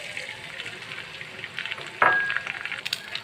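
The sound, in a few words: beaten eggs frying in pan with onions for noodles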